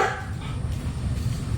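A dog barks briefly nearby, a short muffled bark or two over a low background rumble.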